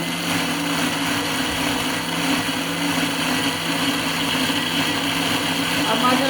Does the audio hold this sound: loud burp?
no